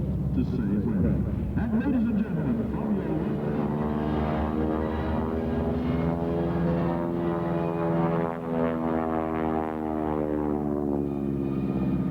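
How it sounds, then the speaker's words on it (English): An AT-6 Texan propeller airplane runs its radial engine at an air show, at Marine Corps Air Station El Toro. A loud, continuous droning engine tone swells and shifts in pitch throughout, with a voice heard over it. "This is airplane starting off live at Marine Corps Air Station El Toro"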